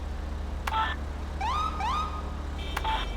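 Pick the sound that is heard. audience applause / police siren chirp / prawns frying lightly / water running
police siren chirp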